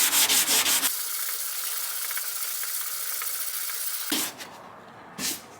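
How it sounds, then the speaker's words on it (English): Sanding primer over a pulled dent on a car body panel by hand, a steady rasping rub for about three seconds, close and alone, followed by a couple of brief scuffs. "I'm gonna sand it, and it should be getting smaller and smaller."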